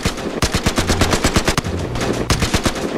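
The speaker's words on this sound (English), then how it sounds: "Where is the gunfire coming from?" Rapid bursts of automatic gunfire in the video game The Electric State rattle on without a break, loud and close, with sharp repeated shots and no voices over them.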